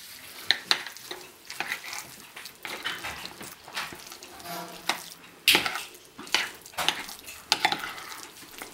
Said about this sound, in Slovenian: Tako, zdaj pa zmeši.